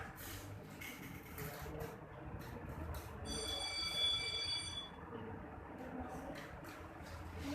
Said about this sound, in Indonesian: Pada saat bel pulang berdering